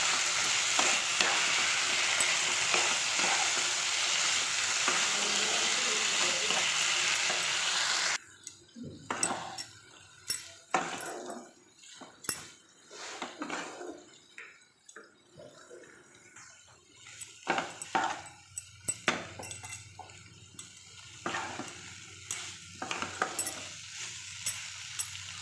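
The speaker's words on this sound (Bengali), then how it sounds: "ওই 2-3 মিনিটের মতো নাড়াচাড়া করব" Fried soybean chunks and potatoes stirred in a pan with a spoon, a loud continuous sizzle for the first several seconds, then quieter frying broken by scraping and clinks of utensil against pan.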